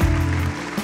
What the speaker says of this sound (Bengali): আমার বাবার জন্য আপনারা একটা জোরে হাততালি দেবেন।